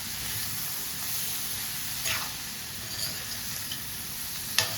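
Prawns fry in a pan with ridge gourd and other vegetables, giving a steady close sizzle broken by a few brief scrapes of stirring.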